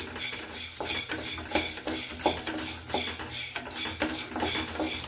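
Urad dal dry roasting in a pan with no oil, a soft continuous rustle and scraping of the spoon stirring the lentils against the metal, close and steady throughout.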